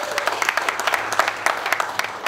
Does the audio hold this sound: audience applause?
yes